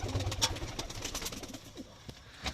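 Young Fırıncı Mahmut yellow pigeons coo softly inside their coop, a few low, rounded coos close by amid quiet shuffling.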